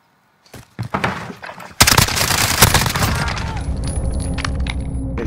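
Rapid gunfire in Call of Duty Modern Warfare during a 2v2 gunfight, a few sharp shots opening into a dense, loud burst of automatic fire that keeps rattling close by, with a voice briefly heard under it.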